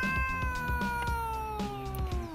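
A neighbor's cat meows in long, wavering, drawn-out cries that slide downward over about two seconds, loud and close, over a steady rhythmic thumping background.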